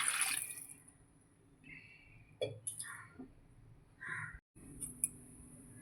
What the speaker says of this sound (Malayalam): ഇനി നമുക്ക് പുളിവെള്ളം ഒഴിച്ചു കൊടുക്കാം. പുളിവെള്ളത്തോടൊപ്പം തന്നെ നമുക്ക് കുറച്ച് സാദാ വെള്ളം കൂടി ഒഴിച്ചു കൊടുക്കാം